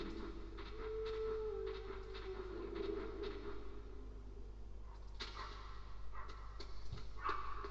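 Wolves in the Metal Gear Solid video game growling and letting out a drawn-out whining howl, over a low constant hum with scattered clatter, moderately loud and without talk.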